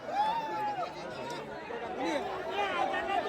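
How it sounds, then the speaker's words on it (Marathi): A crowd chatters and calls out close by, several overlapping voices forming a continuous hubbub that rises and falls in loudness. "गर्दी"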